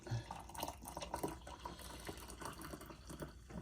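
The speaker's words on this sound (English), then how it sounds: "I got the hot water here. We're gonna add it." Hot water pours steadily into a mug of instant coffee in a continuous splashing stream, close by and moderately loud, with a faint liquid gurgle throughout.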